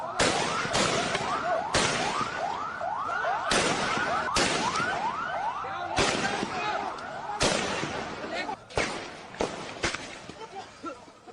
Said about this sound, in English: That's Pakistani police firing at their own civilians, their own citizens.